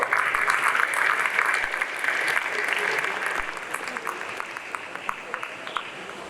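An audience at a panel discussion applauds a speaker, a full round of clapping that starts loud and dense and then thins into scattered individual claps as it fades, with faint crowd murmur beneath.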